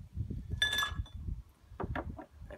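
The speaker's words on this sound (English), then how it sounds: "If we add all the ice into the glass at this stage." Ice cubes clink into a cocktail glass already holding Glenlivet whisky and orange juice, a few sharp close chinks in quick succession, followed by quieter knocks and handling noise.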